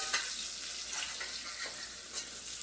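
Sausage frying in its own grease in a pot for Creole black beans and rice, a continuous bright sizzle with light spoon stirring and small crackling bursts, close and moderately loud.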